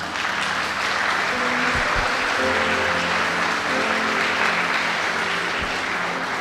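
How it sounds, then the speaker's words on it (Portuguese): A church congregation applauds, with steady, full clapping that fills the room throughout, while low sustained organ or keyboard tones and a few thumps sound underneath. "Você pode dar um aplauso ao Senhor por isso?"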